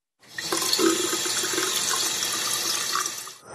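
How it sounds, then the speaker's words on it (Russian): Rusty water runs from a tap in an apartment, a steady close rushing stream into a sink that begins abruptly and holds constant before tapering off. "из крана по улице Волгоградской каждый день течет ржавая вода, течет и течет"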